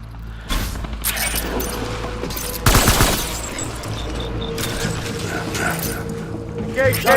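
Gunfire erupts at a hostile gate in the video game Death Stranding, with a loud burst around the middle and scattered shots and mechanical clatter over a continuous rumble of background noise.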